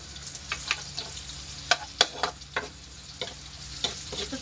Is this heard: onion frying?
yes